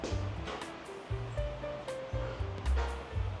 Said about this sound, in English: you've got the river running right behind the property here.